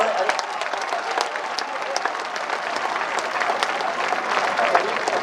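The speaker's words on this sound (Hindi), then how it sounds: "एक बार तालियां बजाए जोरदार" A crowd at a poetry recital for the poet Hariom Panwar breaks into loud, sustained applause, thick and continuous from start to finish.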